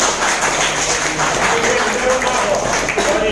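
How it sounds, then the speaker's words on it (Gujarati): An audience at a business meeting in a hotel hall applauds for two leaders, a steady wash of clapping that fills the whole moment at a close, even level. "આ બંને લીડરો માટે જોરદાર ફરીથી એકવાર તાળી."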